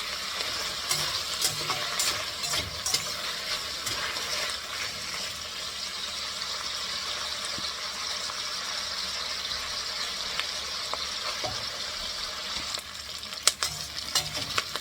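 Capsicum shallow fries in a generous amount of oil, giving a continuous close sizzle with scattered stirring clicks and scrapes over roughly fifteen seconds.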